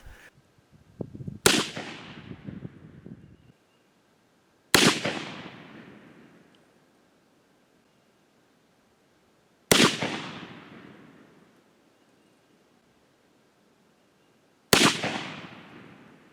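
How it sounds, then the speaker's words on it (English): A Ruger Old Army percussion revolver fires black powder loads, four loud, sharp shots spaced several seconds apart outdoors, each followed by a long decaying echo. "Now we're shooting black powder, and you can see that there is a little more recoil showing in the gun"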